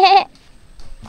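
Goats bleat on a mountain trail during a hike, one loud close call at the start followed by quieter, more distant sounds.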